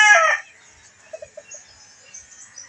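A hen about to lay eggs gives a brief loud squawk, then falls to a few soft, quiet clucks.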